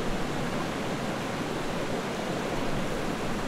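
The Miami River flows as a continuous broadband rush of water, steady and fairly loud, with no voices over it.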